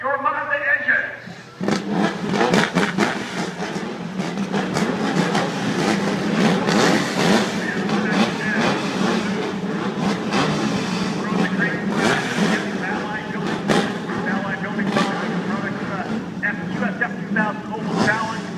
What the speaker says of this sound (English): Drivers, start your Mazda engines.